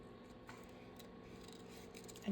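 Scissors cut a picture out of paper, a soft continuous snipping and rubbing close by, quiet and unaccompanied by talk.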